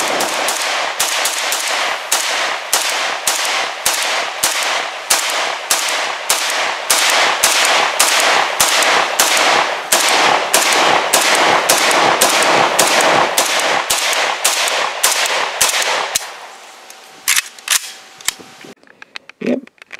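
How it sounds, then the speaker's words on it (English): Rapid semi-automatic fire from an Arsenal SLR104FR 5.45x39 AK-74 rifle: dozens of loud, sharp, evenly spaced cracks in a steady string, then a pause and a few scattered clacks and handling noises near the end. "another couple of hundred flawless rounds through my 104FR"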